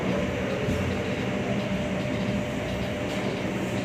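The Argo Parahyangan train rumbles past near Jatinegara station in a steady, loud, continuous roar with faint clickety-clack from the rails, and no one speaks.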